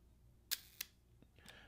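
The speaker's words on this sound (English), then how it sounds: "This is 1/4 second. And it's a smooth, quiet," A leaf shutter on an Agfa Super Isolette folding 6x6 film camera fires at 1/4 second, giving two soft, quiet clicks about a quarter second apart, with a faint mechanical tick following in an otherwise still room.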